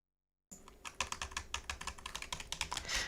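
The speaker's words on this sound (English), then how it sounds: "He is clicking, I swear to God, he is clicking." A computer keyboard clicks in a quick, uneven run of distinct key presses, close and fairly crisp, starting after a short silence and continuing alone without talk.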